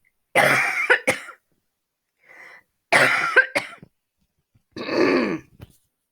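A person coughs in three separate bursts with short pauses between, close and fairly loud, a faint throat sound falling in the first gap.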